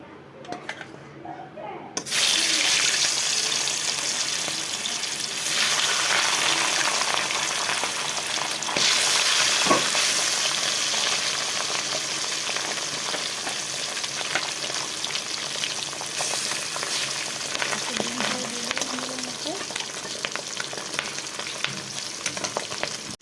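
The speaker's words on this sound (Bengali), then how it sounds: "এটাতে আর একটু তেল দিয়ে দিলাম বন্ধুরা, মাছগুলো দিয়ে দিচ্ছি।" Fish pieces frying in extra oil in a Bengali home kitchen sizzle loudly and steadily close up, after a short quieter start as they go into the pan, with faint clinks and a muffled voice underneath.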